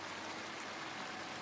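Water stream for rinsing hands in the Angels of Death video game, a faint, steady hiss of running water with no other sounds.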